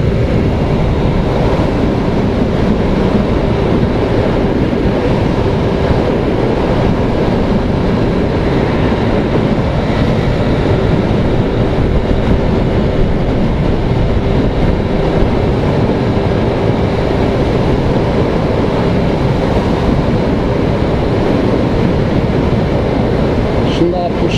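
Car engine held at full throttle while driving on a road, a steady loud roar with heavy wind and road noise throughout, with someone talking over it.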